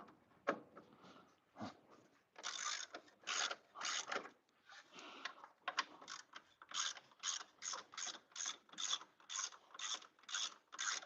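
A hand ratchet works on 10mm bolts on a Chevy Express van, starting with a few scattered clicks and settling into a fast, even run of close, crisp ratcheting bursts, with no voices.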